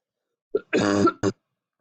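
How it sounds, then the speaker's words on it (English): A brief throat clear followed by a short harsh cough, then one more quick cough, close and otherwise silent. "sorry about the coughing"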